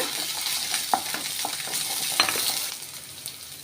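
Cinnamon, garlic, shallots, ginger and chillies fry in hot oil for a fish fry masala, giving a steady close sizzle with scattered scraping stirs and a couple of sharp utensil clinks.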